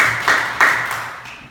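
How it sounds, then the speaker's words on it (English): Small class in a demonstration lesson applauding, a few rhythmic bursts of clapping in quick succession, close and fading by the end. "Let's give her a round of applause."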